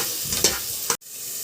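Onion fries lightly in a pan for mushroom Manchurian, a close steady sizzle broken by two quick scraping stirs of a spoon, with a brief dropout before the hiss returns.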